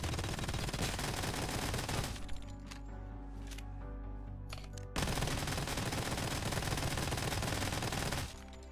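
Loud, dense bursts of submachine gun fire in the Lost Light mobile video game, with a long sustained volley, a brief lull with a few spaced shots, then another continuous burst.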